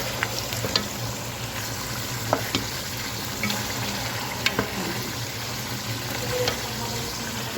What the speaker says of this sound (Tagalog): lagay natin yung ating ginger at saka garlic paste